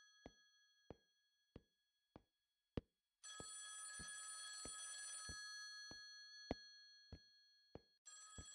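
An old-style telephone bell rings in the video game Selene's Unbearable Night, a sharp repeated metallic ring loud and alone, joined midway by a steady hiss of static or rain that drops out and returns, with sharp knocks punctuating throughout.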